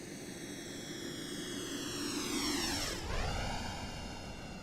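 Jet engines of an MD80 airliner in the X-Plane 12 flight simulator roar steadily, rising tones sweeping down sharply in a doppler-like dip as the aircraft passes, a continuous loud whine over a broad rumble with no talk.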